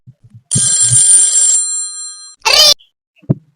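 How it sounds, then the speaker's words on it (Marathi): A mobile phone rings loudly and close by with a steady electronic tone lasting about a second, followed by a short burst of sound and a few faint knocks around it. "फोन वाजू राहिलाय."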